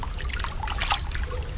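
A Joby GorillaPod tripod with ballhead dropped into water gives a short burst of splashing and trickling, close and brief, with no talking.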